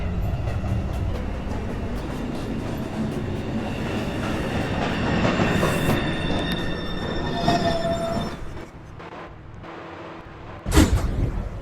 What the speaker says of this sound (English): Downtown, local 1, train. Approaching the station